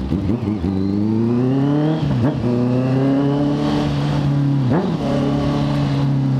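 A Honda CB650F 4X1 motorcycle engine revs loudly up close, its pitch climbing steadily with brief dips near the two-second mark and again near the five-second mark as the throttle is blipped, with no talking over it.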